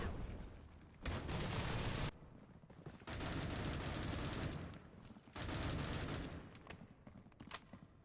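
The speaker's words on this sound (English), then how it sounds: "just firing some blind shots right now, see if they can connect on anybody, making some noise" Gunfire in a competitive shooter video game during a tournament semi-final match, blind shots fired as sustained bursts in three long rapid volleys with quieter gaps, moderately distant and fairly faint.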